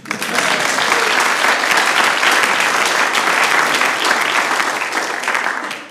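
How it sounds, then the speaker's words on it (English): A concert audience at a live Christmas show claps in one loud, sustained burst, the dense applause rising quickly, holding steady for several seconds, then tapering at the end. "So give yourselves a huge round of applause."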